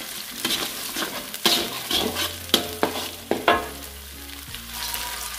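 Ground spice paste for stir-fried green beans and carrots sizzles in a pan while a spatula scrapes and stirs it in quick, repeated strokes, close up and with no talking.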